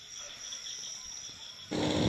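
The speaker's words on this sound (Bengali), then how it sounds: "চারিপাশে ঝিঝি পোকার ডাক যেন এক অসাধারণ অভিজ্ঞতা" Crickets chirp in a quiet forest at dusk near Lebong, Darjeeling, as a steady high-pitched trill that continues throughout, joined near the end by a louder rushing noise.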